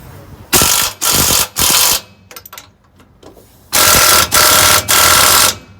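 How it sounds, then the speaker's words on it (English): Ratchet wrench tightening jam nuts on an SS525 TracBar track bar; three loud, dense ratcheting bursts, a quieter mechanical pause with faint clicks, then three more loud bursts, close to the listener with no talk. "And then we'll tighten the jam nuts."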